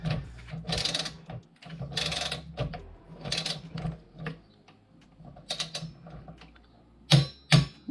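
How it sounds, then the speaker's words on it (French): Torque wrench clicking as it tightens the brake disc bolts on a Rieju MRT motorcycle wheel, a run of short close mechanical clicks and ratchet bursts at an uneven pace, with two sharper clicks near the end. "l'avantage de ces clés dynamométriques, c'est qu'on est sûr d'avoir le même serrage en fait sur chaque vis"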